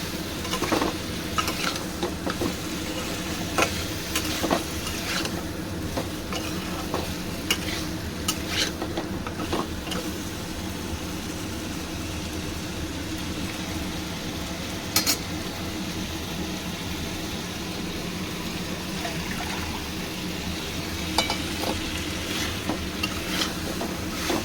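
Prawns fry in a pan for a gathi kochu curry while a spatula stirs them, a steady sizzle broken by repeated scraping clinks of utensil on metal throughout, close and with no talking.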